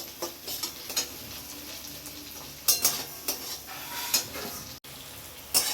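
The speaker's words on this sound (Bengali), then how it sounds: "টমেটোটা হালকা করে ভেজে নেব যাতে কাঁচা গন্ধটা না থাকে" Chopped tomatoes and green chillies frying gently in a pan for a Bengali fish roe dish, a soft steady sizzle broken by several clinks and scrapes of a spatula stirring against the pan.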